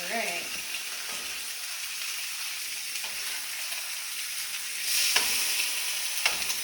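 Food frying in a pan: a soft, steady sizzle, joined near the end by a louder rush and a couple of sharp clanks as the pieces are tossed.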